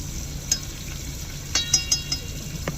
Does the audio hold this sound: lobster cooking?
yes